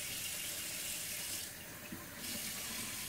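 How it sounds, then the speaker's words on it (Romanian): Water pouring steadily into a pan of softening onions during home cooking, a continuous hissing splash with a brief dip midway. "adăugăm apă ca să nu prăjim prea tare"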